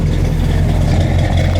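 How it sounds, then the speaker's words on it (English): A 1965 Pontiac LeMans convertible GTO tribute with a 455 engine and a performance cam idles up close, a loud, steady low rumble with a slightly lumpy beat and no voices over it. "Now you can really hear that that nice 455, that nice cam."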